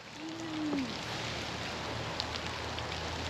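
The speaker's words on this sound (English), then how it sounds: "So we have rain on the camera lens, which is not good." Rain falls outdoors at a zoo, with a steady soft patter and drops hitting the camera lens, plus a faint whistle-like tone early on.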